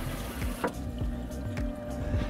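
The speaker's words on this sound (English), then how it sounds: "right now we're pumping the water out of the live well" Water is pumped out of a boat's live well during a boat build, heard as a steady close gurgling, splashing flow with a continuous mechanical hum underneath and a few faint clunks, constant in level throughout.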